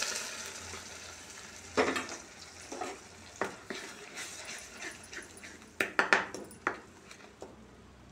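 Cashew onion paste for paneer kaju masala cooks in oil in a pan, a steady low sizzle broken by irregular scraping and clinking stirs at close range.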